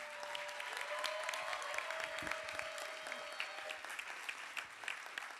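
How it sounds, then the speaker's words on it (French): An audience at a festival round-table applauds two performers, a steady wash of many hands clapping throughout, fairly distant and sustained, with a few sharper claps standing out. "moi je voudrais qu'on applaudisse Mathéo et Salomé."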